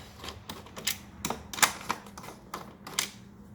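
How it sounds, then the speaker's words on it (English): A long 10 mm socket wrench loosens screws on a Corvette C7 engine cover, giving a quiet, close series of sharp, irregular metallic clicks. "put our long socket number 10 on, and we're going to take these screws out of here"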